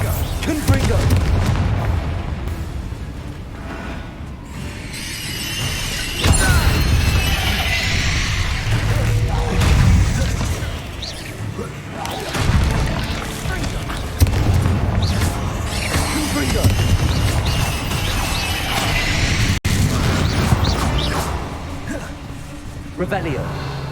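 Explosion spells Bombarda and Confringo go off in a Harry Potter video game as booming blasts and crashes over a rumbling background, with a voice speaking throughout.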